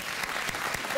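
Applause from a late-night talk show studio audience, a dense steady wash of many hands clapping at even loudness through the whole moment, with a faint voice briefly under it.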